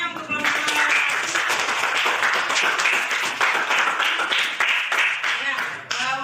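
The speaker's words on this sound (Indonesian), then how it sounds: "Tepuk tangan semuanya untuk kelompok." Applause from a classroom of students for a student group, a dense run of clapping lasting several seconds that swells and then thins toward the end, with no talk over it.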